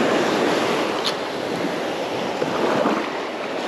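Ocean surf breaks steadily along a sandbar beach, a continuous loud wash of waves with some wind noise on the microphone and no talking.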